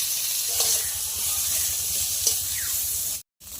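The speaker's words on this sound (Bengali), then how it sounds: "কড়াই গরম হয়ে গেছে বেগুনটা ভেজে নেব" Eggplant fries in hot oil in a wok with a soft, steady sizzle and hiss, interrupted by a brief silent break near the end.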